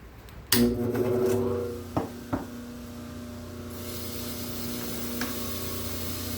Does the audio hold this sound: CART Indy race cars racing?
no